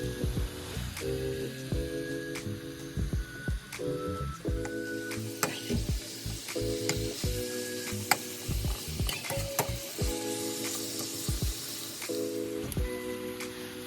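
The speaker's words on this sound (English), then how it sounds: "Be gentle with your steak meat when you are cooking it" Steak meat sizzles in a skillet with a continuous bright fry. Spatula taps, scrapes and clinks come at irregular moments as the meat is moved gently around. No one speaks.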